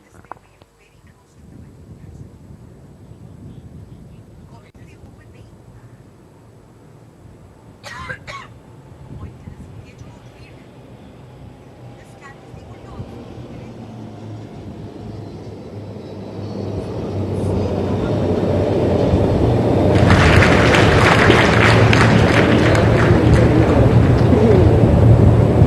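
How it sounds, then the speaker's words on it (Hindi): A Dornier aircraft built by Hindustan Aeronautics Limited passes overhead at a military event, its engine drone swelling steadily from a low rumble to a loud, broad roar near the end amid crowd murmur. "अब आ रहे हैं हिंदुस्तान एरोनॉटिक्स लिमिटेड द्वारा निर्मित डॉर्नियर विमान"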